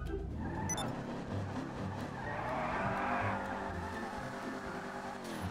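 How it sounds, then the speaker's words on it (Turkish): A car in GTA 5 drives and skids, with a steady engine drone and a rising tire squeal partway through, loud and continuous with no talking. "Şimdi arabayı bir sürelim."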